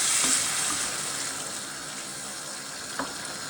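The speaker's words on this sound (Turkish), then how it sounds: "domates püresi koyuyorum" Tomato puree cooks in a pan, producing a steady, moderately loud sizzle and bubbling hiss with a faint clink or scrape near the end.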